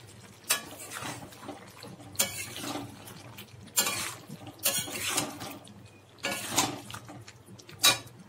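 A spoon scrapes and stirs fried spice paste with ghee into a vegetarian jackfruit curry in a pan, giving about six separate bursts of sizzling, wet scraping with quiet gaps between them.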